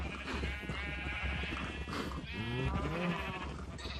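Blocky Minecraft sheep bleat several times in a row, quavering calls layered over a dense, constant game background that stays loud throughout.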